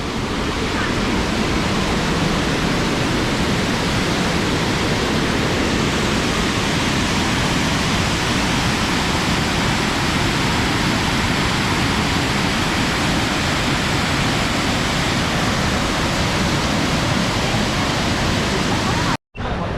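A loud, steady roar of rushing water fills the whole stretch, broadband and unbroken like a nearby waterfall, cutting off briefly at the very end.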